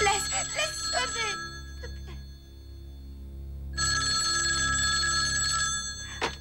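A telephone rings in a dramatic film scene: two loud, close electronic rings separated by a pause, the first following brief voices, the second sounding alone and sustained.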